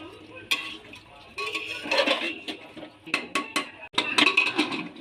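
Chicken curry with papaya and potatoes gets stirred in an opened pressure cooker, giving irregular scraping and clinking of a spoon against metal. The strokes come in uneven bursts, fairly close, with quiet gaps between them and no talking.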